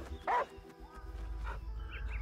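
A dog barks once in the video game Last Day of June, a single short loud bark standing out over a steady low rumble of game ambience.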